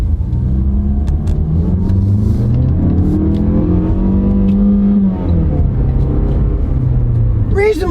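A car engine runs steadily after being shifted into first gear, a loud continuous rumble that rises and falls in pitch as it revs, with a voice talking over it.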